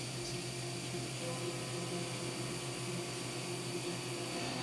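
A CNC mill cuts titanium with an eighth-inch four-flute end mill at a conservative setting, giving a steady, faint whirring drone with a constant tonal whine and no talk.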